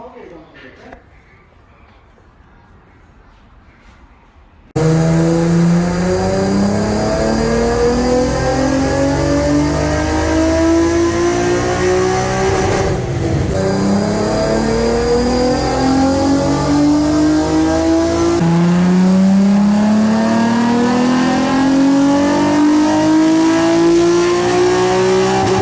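A Nissan 350Z with a VHR engine swap fires up on a dyno after a quiet start, then roars loudly and continuously through sweeping rev climbs, with a brief dip mid-pull before pitching upward again.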